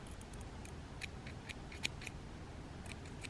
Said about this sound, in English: you can come in with scissors and trim it up real nice.